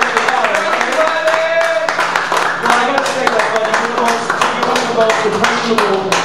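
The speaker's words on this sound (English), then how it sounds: "let's give a round of applause to God" A church congregation claps steadily and densely throughout, with voices and a sustained musical tone running underneath.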